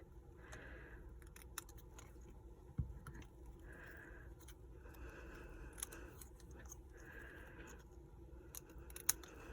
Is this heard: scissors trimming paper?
yes